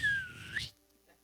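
A person whistles in imitation of a shepherd calling sheep. One loud, close whistle dips and then rises in pitch, cuts off sharply after about half a second and is followed by near silence.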